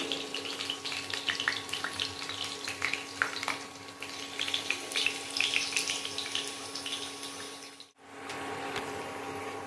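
Potato pieces fry in hot oil with a steady crackling, bubbling sizzle, moderately close, with small pops scattered throughout and a brief dip near the end.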